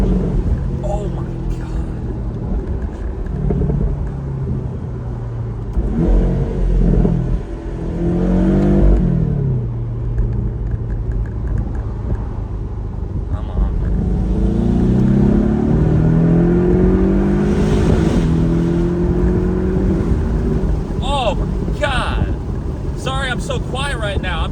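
A 2018 Porsche 718 Boxster pulls hard in fourth gear on a back road, its engine note swelling and rising in pitch through repeated surges, heard close from inside the car.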